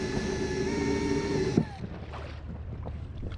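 A drill-powered motor drives a small boat, its steady mechanical whine and hum running loud and close under wind noise for about a second and a half before cutting out abruptly, leaving water and wind sounds.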